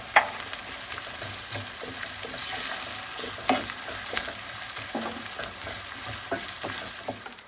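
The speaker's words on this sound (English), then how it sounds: "So I'll go ahead and put the onions in it just like this." Onions sizzling and frying in oil in a pan for a Spanish omelette, a steady crackling hiss with occasional louder pops and stirring scrapes, fairly quiet and close, no talking.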